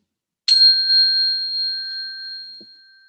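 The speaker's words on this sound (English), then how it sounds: "listening to the bell till it fades away" A single bell strikes once, clear and resonant, then its tone lingers and slowly fades away into silence.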